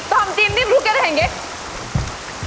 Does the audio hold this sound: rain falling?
yes